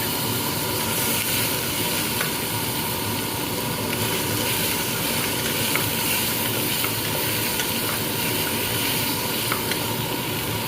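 Chopped onion and tomato sizzle steadily in a hot pan for a carrot and red pumpkin soup, a dense, continuous hiss holding at even loudness throughout with faint stirring clicks and no voices.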